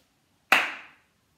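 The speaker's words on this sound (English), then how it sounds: "Can you do one clap for me?" One sharp, close hand clap in a quiet room, a single crisp slap with a brief decay.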